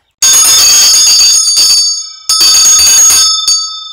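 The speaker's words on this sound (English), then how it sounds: "So, what's that bell sound like before we get out of here?" A bright metal bell at a desert home rings loudly twice, each ring a cluster of quick strikes with a shimmering tone that decays between bursts.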